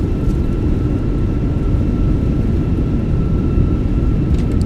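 A Fenix A320 in the MSFS2024 flight simulator decelerates with thrust reversers deployed after landing, a loud, steady low engine roar with a faint constant whine above it, no voices.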